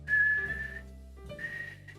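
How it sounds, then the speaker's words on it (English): A person whistles a soft melody with only a modest whistle, in two sustained phrases split by a short pause, close and alone with no talking. "I could do like melodic whistling"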